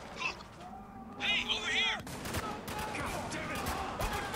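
Gunfire in the video game Spec Ops: The Line, sharp bursts of shots with mechanical clatter, mixed with game effects and someone talking over it.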